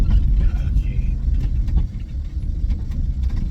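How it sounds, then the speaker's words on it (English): A lorry rumbles down a tight narrow lane, a heavy low engine drone that stays close and loud, surging and easing as it moves past. "Lorry's coming down this fucking tight lane"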